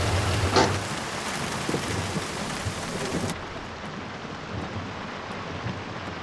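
Steady heavy rain falls continuously, a dense even hiss close by with a brief louder patter near the start, no voices.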